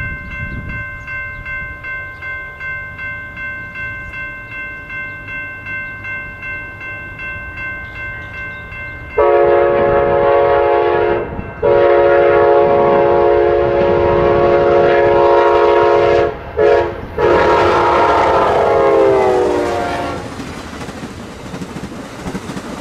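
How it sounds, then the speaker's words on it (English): A passenger train, Amtrak's Southwest Chief, rolls closer with a steady rumble, then a loud multi-tone horn blasts several times as it passes nearby. "the eastbound Southwest Chief appeared in the distance and came through Bristol a couple minutes later"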